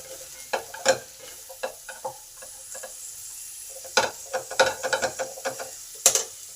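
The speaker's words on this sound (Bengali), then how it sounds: "এবার সমস্ত কিছু একটু ভালো করে নেড়ে নেব" Spiced cauliflower and pea filling being stirred in a pan gives a series of close, distinct scraping and clattering strokes, sparse at first and then quicker, over a faint sizzle.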